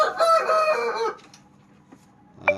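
A young rooster gives one short, thin crow up close, followed by near silence and a brief cluck at the end.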